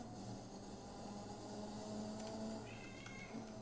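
A pet cat named Loki gives a short meow near the end, faint against a steady engine drone and hum from a Gran Turismo 4 racing game playing in the background.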